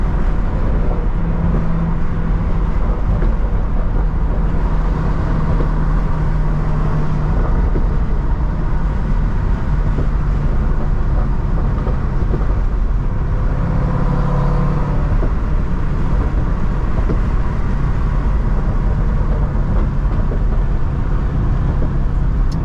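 A 2010 C6 Corvette running catless with Corsa Extreme exhaust, heard from inside while driving: a steady, loud, deep exhaust drone and road roar with slight rises in pitch under acceleration.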